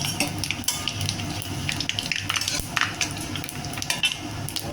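Dried red chillies and panch phoron spices sizzle and crackle in hot oil close by, with occasional sharp clinks of a utensil against the pan.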